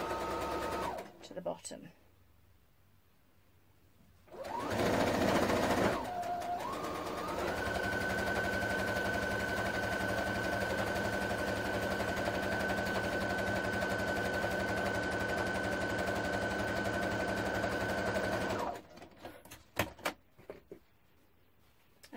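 A sewing machine stitches a sleeve seam for an off-the-shoulder top, running in one long, steady, close whir after a brief burst, with someone speaking briefly before and after.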